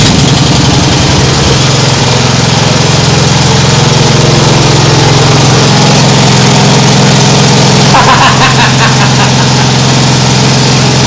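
A Nibbi G619 walk-behind tractor engine running loud and close, a steady rough idle with a rhythmic low thump, throttle lifting briefly near the end.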